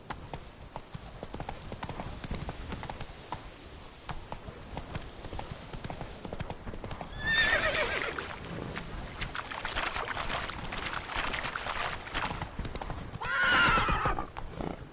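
Roach the horse gallops in The Witcher 3 on PS4 Pro, a steady run of quick hoof clip-clops with two louder snorting whinnies partway through and again near the end, no speech over it.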